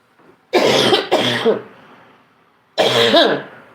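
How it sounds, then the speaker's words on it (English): A person coughs close to the microphone: two quick harsh coughs back to back, a short pause, then a third throaty cough. "Damn, this cough."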